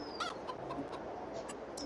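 Chickens cluck softly in a Farming Simulator 22 farm scene, a few brief faint clucks scattered over a steady hum of background ambience with no talk.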